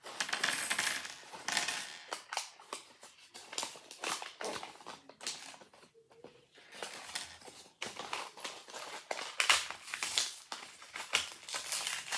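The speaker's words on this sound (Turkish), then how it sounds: "Parça yere düştü." Small plastic Lego pieces from a Spider-Man set clatter and tick onto a floor in scattered, close bursts, with plastic bag crinkling and rustling throughout and no talk.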